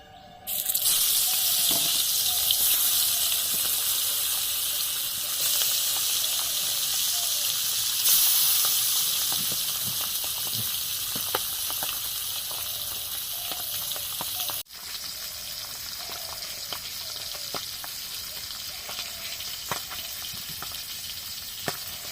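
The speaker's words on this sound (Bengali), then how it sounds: "বোয়াল মাছ ভাজার সময় খুব তেল ছিটকায়" Boal fish fries in hot oil with turmeric sprinkled on it, giving a loud, steady sizzle and hiss that continues throughout, easing slightly partway, with faint crackles and spits.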